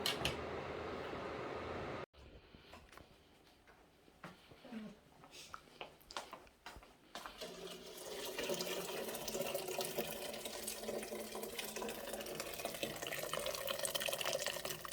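A kitchen tap running water into a cooking pot: faint clatter and handling at first, then a steady, rushing stream that grows fuller and louder toward the end.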